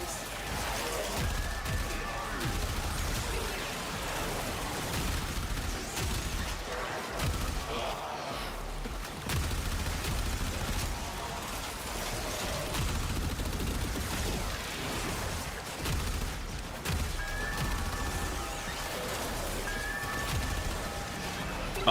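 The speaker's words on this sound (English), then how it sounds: "the mini explosions can also bypass the enemy shield" Kuva weapon fire in the video game Warframe, with dense rapid shots and small popping explosions running almost continuously, loud and busy, with some voices mixed in.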